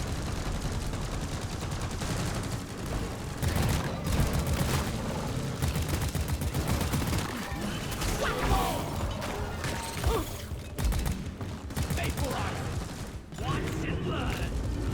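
Gunfire and mechanical clatter from the co-op shooter Deep Rock Galactic keep up in bursts, with people talking over the shooting.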